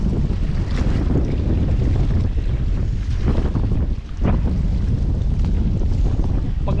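Steady, moderately strong wind buffets the microphone on a fishing boat at sea, a continuous rushing roar with brief gusts and no talk.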